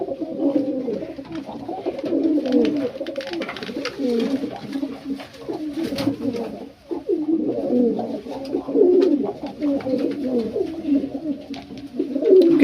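Domestic pigeons being paired in a loft coo continuously, overlapping rolling calls close by with short pauses, no talk.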